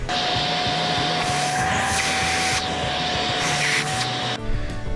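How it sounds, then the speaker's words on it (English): A loud, steady vacuum motor whine runs nearly the whole time, sucking debris from a drilled hole in a garage, with a constant high tone, cutting out abruptly near the end. "Now we gotta vacuum out the hole and see if it works"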